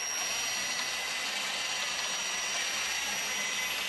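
A cordless drill spins a DIY wind turbine generator on a bench test, giving a continuous high whirring motor whine that holds steady and fairly quiet throughout, with no speech.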